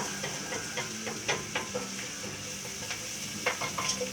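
Onions sizzle in a pan on medium heat for a beef stew, giving a steady hiss close to the mic, punctuated by several soft scrapes and taps as a non-metal utensil stirs them.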